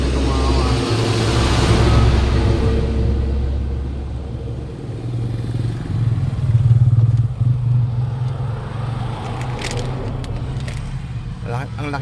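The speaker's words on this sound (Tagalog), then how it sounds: "Laki na mga truck dito mga ka-wonder." Big trucks rolling past on a road, a loud low rumble swelling and fading as they go by, with a voice talking over the traffic noise.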